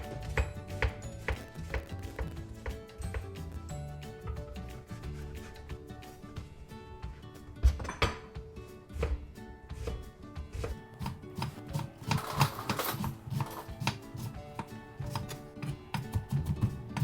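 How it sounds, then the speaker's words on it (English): An onion being chopped with a knife on a board for chilaquiles, a brisk run of rapid, sharp chopping taps close by, steady throughout with a few heavier knocks. "we're gonna cut our onion for our chilaquiles"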